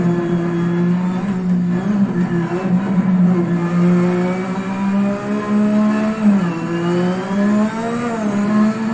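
Ferrari SF70H Formula 1 car in Assetto Corsa, its engine droning loud and steady with a high harmonic whine that dips and climbs through gear changes and throttle lifts during a lap, with no voices.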